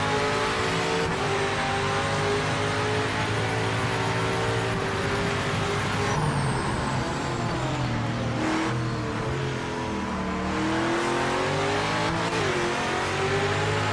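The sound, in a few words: Cadillac race car engine in video game Project Motor Racing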